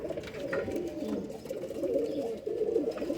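Pigeons kept in a loft coo continuously at close range, a soft throaty warbling murmur layered from more than one bird.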